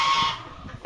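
A guinea fowl at a non-veg meat shop in Bhubaneswar lets out a single sharp, piercing, metallic call up close, which trails off within a second.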